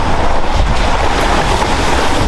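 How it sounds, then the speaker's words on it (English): A 4x4 vehicle drives straight through a river crossing, with loud, continuous rushing and splashing water mixed with heavy wind buffeting close to the microphone, and no talking. "A river crossing, straight through the river right now."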